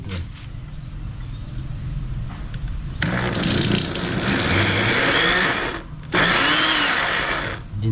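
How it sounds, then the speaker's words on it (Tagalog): A blender motor whirs loud and close, starting abruptly, running for a few seconds, cutting out briefly, then kicking back on at full speed with a grinding, churning tone. "Ngayon lang ako gagamit ng blender mga kapangil."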